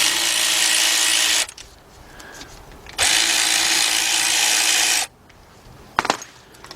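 A power tool spins out brake caliper bracket bolts on a 2006 Cadillac DTS in two loud, close, sustained bursts about a second and a half long each, followed by the sharp clink of a metal part.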